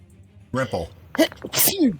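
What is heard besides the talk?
sneeze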